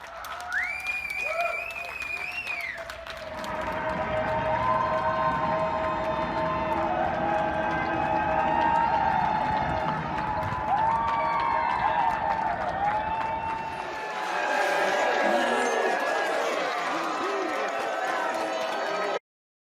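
A crowd cheering and applauding for frontline workers at the 2020 NFL Draft, a sustained wash of clapping and shouts mixed with tonal sounds, fading briefly near the end and then swelling again.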